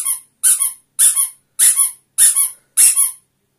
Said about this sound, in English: Do the squeaker with him now.